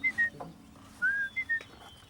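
A person whistles a few short notes, pauses, then whistles several more rising and falling notes, fairly quiet and unaccompanied.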